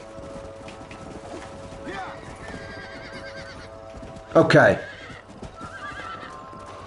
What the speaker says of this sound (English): let's get some horses